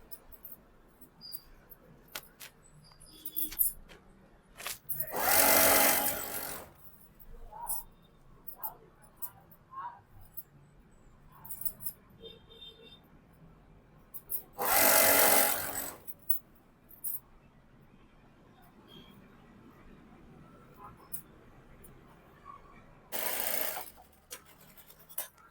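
Sewing machine stitching Anarkali dress fabric and lining, three distinct bursts of rapid mechanical whirring separated by quiet handling clicks and soft speech.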